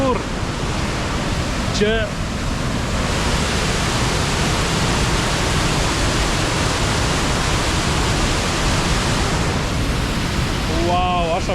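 A Welsh waterfall rushes in a loud, dense, unbroken roar that fills the whole scene, with a man's brief words heard over it.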